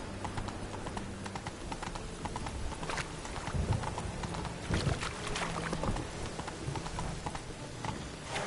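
Roach the horse galloping in The Witcher video game, hooves clip-clopping in a quick, steady rhythm close by over soft outdoor ambience.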